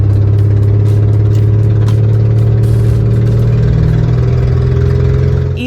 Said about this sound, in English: On the way back, the exhaust manifold came away from the engine block and it sounded a bit like this.